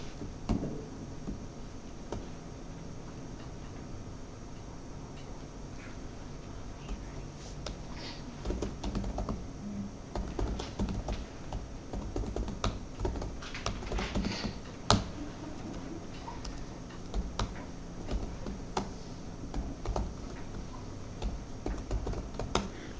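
Code is typed on a computer keyboard during a lecture, giving a continuous patter of close clicky keystrokes over a background hum, with no talking.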